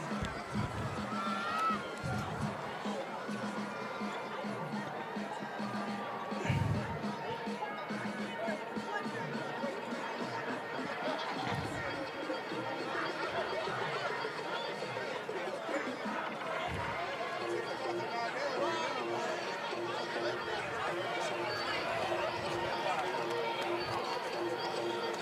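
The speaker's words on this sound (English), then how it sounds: "The vivacious crowds here at Ventura High School are set for the second half of action" Crowd at a Ventura High School football game during halftime, a steady murmur of chatter and movement with occasional thumps, running continuously under a nearby speaking voice.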